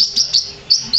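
Birds chirp in short, bright bursts, four or five quick tweets spaced across the moment, fairly close and clear over a quiet background with no talking.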